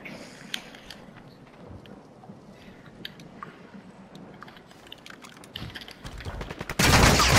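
Gunfire in Warzone 2: scattered faint distant shots and rattling bursts over a quiet low background, building to a dense, loud roar of firing in the final second.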